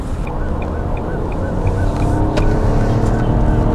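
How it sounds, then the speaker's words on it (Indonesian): Engine of a new Nissan Kicks groaning steadily during a test drive, a continuous low drone with road rumble filling the cabin at constant loudness, with no voices. "Mesin terdengar mengerang"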